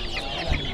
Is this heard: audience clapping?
no